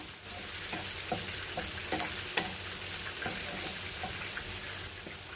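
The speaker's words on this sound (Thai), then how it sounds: "ใส่น้ำมันมะกอกลงไปเนาะอันนี้เป็นหอมจ้ะ เดี๋ยวเราจะผัดหอมจ้ะ ผัดหอมให้ให้หอมเลยนะ" Shallots stir-frying in olive oil in a pan, a steady close sizzle with a series of soft rhythmic scrapes and taps from stirring, without talk.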